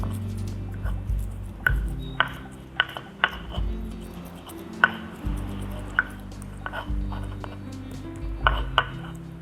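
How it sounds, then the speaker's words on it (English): An onion is crushed with salt for a stuffed tofu filling, giving close, irregular knocks and grinding scrapes against a hard surface, a dozen or so sharp taps over a soft background hum. "Crush the onion and the salt."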